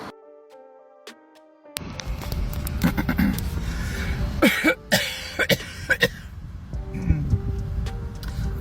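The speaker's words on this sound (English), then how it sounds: "Just thought I should clear my throat" A person clears their throat with a few rough, gravelly coughs against a steady background rumble.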